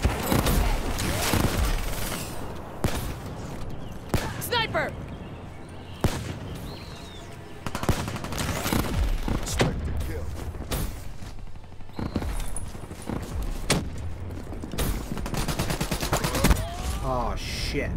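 Gunfire in Call of Duty Black Ops 3 on the Nuketown team deathmatch map, with sharp shots and bursts popping irregularly throughout amid game noise, while a player talks over it.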